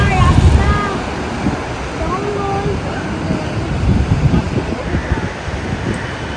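Surf washing on the shore at Dolphin Nose near Yaarada Beach, a steady broadband roar with wind buffeting the microphone, while people talk over it throughout.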